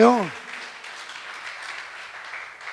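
A brief shout gives way to a church congregation clapping steadily during a worship service, a dense, even wash of applause from many hands that carries on throughout.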